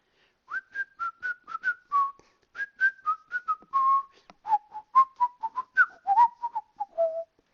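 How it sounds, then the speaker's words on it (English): A person whistles a simple, wandering tune in clear, close melodic phrases with brief pauses between notes, alone and without any talking. "Maybe I'll whistle a tune."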